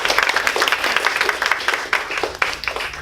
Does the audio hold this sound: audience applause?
yes